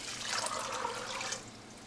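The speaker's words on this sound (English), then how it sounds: "all we're gonna do now is put some water in" Water is poured from a tap into a six-quart pot of freshly picked Southern peas, a steady close rushing splash that tapers off near the end.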